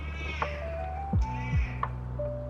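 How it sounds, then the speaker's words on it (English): A cat meows a few times, short calls spaced out over a steady low hum indoors, fairly close and moderately loud. "He meowed already."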